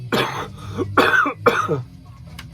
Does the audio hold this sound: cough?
yes